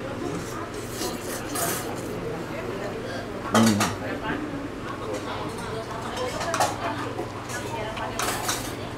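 Noodles topped with crispy wonton and chili being stirred at a Chinatown street-food stall in Jakarta: repeated close clinks and scrapes of utensils against a bowl, with one sharp clank midway, under steady market bustle and talk.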